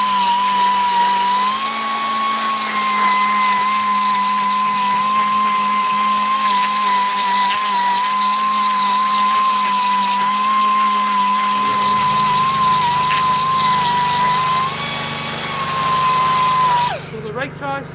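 Sandpaper held against a spinning custom e-bike hub, with no compound or polish, gives a steady high whine and hiss for most of the clip before it cuts off near the end.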